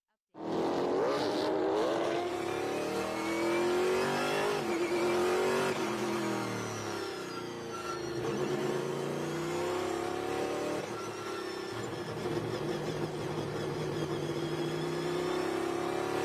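Trans Am series race cars on a fast road racetrack, a loud engine roar that climbs and shifts through gears as cars pass, sustained and close from start to finish.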